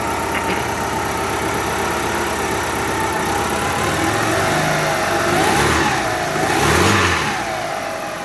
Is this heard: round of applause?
no